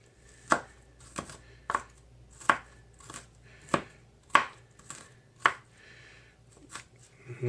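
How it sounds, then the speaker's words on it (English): A knife chops onions on a cutting board while a stuffed bison burger is being prepared: about eight crisp, evenly spaced strokes, close and clear, with no talking. "Okay, so chopping up the onions."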